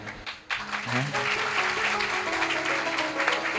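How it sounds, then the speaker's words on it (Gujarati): An audience at a Swaminarayan temple anniversary celebration breaks into sustained applause after a brief lull, a dense wash of many hands clapping together that holds steady to the end, with a voice faintly beneath it. "એટલું સારું કહ્યું ને તાળી બહુ ઓછી પાડી તમે લોકોએ"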